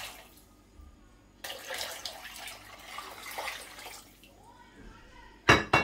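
About three liters of water pour into a cooking pot holding wheat and dried beans, a splashing gush of a few seconds between quieter moments, ending with a sharp metallic clank.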